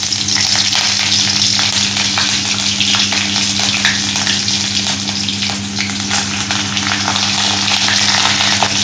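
Green chillies drop into hot oil already crackling with mustard seeds and cumin for a bhendi dish, giving a loud, dense, continuous sizzle with spitting pops and a steady low hum underneath.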